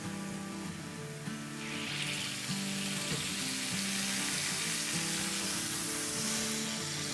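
Boti kebab meat pieces sizzle steadily in a pan, a dense, continuous frying hiss that swells slightly after the first second and holds loud and close, with faint music underneath and no talking.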